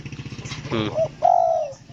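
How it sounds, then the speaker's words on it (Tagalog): A bird gives a soft, low coo close by, short and breathy, over a faint background hum. "Napakabait na ibon yan."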